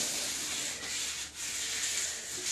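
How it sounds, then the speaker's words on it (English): A file and lapping stone work along a ski's steel side edge clamped at a bevel angle, making a continuous close, even rasping rub with slight dips in the strokes. "I'll go ahead and clamp it into the side edge angle and go over my side edge."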